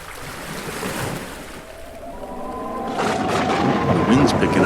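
Sea waves and wind in an audio drama of Shakespeare's The Tempest, as a ship is about to cast off: a continuous, rough wash of surf and gusting air that swells louder toward the end.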